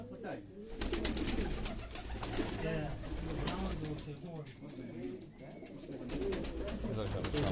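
Balochistani high-flying pigeons coo softly in a low, rolling murmur, faint against a hissy background with some indistinct voices nearby.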